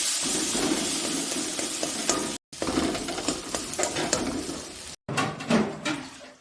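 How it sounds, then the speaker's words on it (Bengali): Onion frying in a pan together with ginger, garlic and chili, a steady crackling sizzle with clinks of a utensil against the pan, cut by two brief silent gaps. "পেঁয়াজটাকে একটু ভাজবো। আদা দিয়ে দিলাম, সব দিয়ে দিলাম, রসুন লঙ্কা সব একসাথে দিয়ে দিলাম।"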